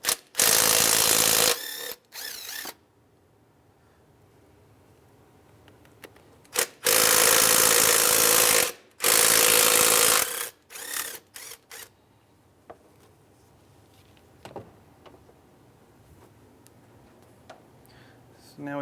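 A ratchet backs out two 10 mm bracket bolts on a Honda Element, loud rapid clicking bursts of about two seconds each, alternating with quieter gaps, close to the ear.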